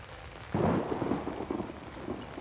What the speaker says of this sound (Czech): zasraný hromy